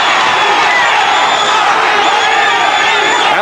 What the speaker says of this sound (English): And the crowd coming alive.